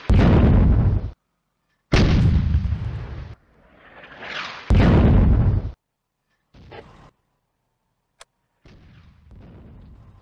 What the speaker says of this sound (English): The mortar has moved to fire for effect. The first round destroys the adjacent windmill.